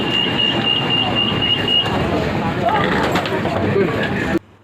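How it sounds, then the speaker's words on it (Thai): A train rumbles and clatters past up close as it arrives at a Bangkok station, with a brief high wheel squeal and voices in the background before the sound cuts off abruptly. "ดูได้แป๊บเดียวนะรถไฟมาพอดีเลยค่ะ"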